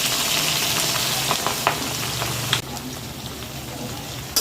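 Mixed vegetables tipped into hot oil with asafoetida for an instant vegetable pickle, giving a loud, steady close sizzle that fills the clip, with small ticks of stirring over it.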